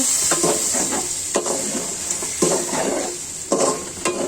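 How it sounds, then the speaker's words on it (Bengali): A spatula stirs pumpkin and rui fish with blended onion-garlic curry paste in a pan, scraping in repeated strokes over a steady loud sizzle of frying, with no voices. "নেড়ে দিব"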